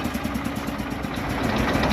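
Shifeng 244 belt-driven tractor with a cab idling while being loaded near Kyiv, a steady close mid-pitched engine chug with a regular pulsing beat and no speech.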